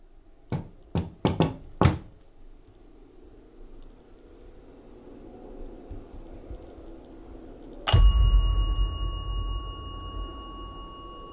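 During a ghost hunt in a manor, five sharp knocks sound in quick succession, followed after a pause by a loud metallic clang whose ringing tone slowly fades.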